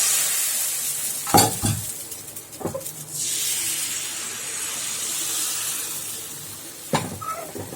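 Appam batter, made from idli batter, hits a hot pan with a soft, steady sizzling hiss, joined by a few sharp clinks of a utensil nearby.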